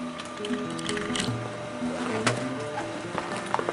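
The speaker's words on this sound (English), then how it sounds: "And now it's time to sew it." A sewing machine stitches backpack fabric for a 50-liter roll-top backpack, running as a steady, close mechanical whir with rhythmic clatter and a few sharp clicks throughout.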